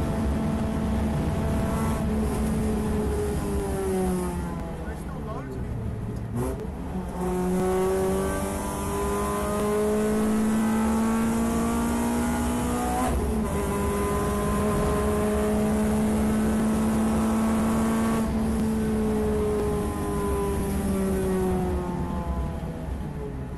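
Renault Clio Cup race car on slick tyres at Donington Park, its engine loud and close as it climbs through the revs in long sweeping pulls, with sharp drops at gear changes and lifts, running continuously for over twenty seconds.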